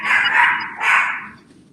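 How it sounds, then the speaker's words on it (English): Dogs in a break room bark twice in quick succession, loud and close, with each bark trailing off into a short fading yelp. "We just happen to have dogs in the break room right now."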